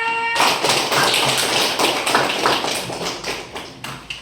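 Children in a classroom break into loud, fast group clapping, a dense patter of many hands that gradually fades toward the end.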